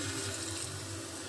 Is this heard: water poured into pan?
yes